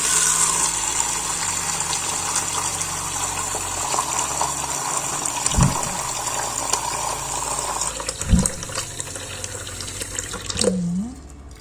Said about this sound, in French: prendre une boîte comme ça en plastique, mettre de l'eau tiède